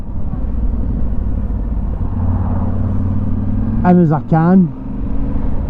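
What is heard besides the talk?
motorcycle being ridden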